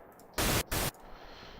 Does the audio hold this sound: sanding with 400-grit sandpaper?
no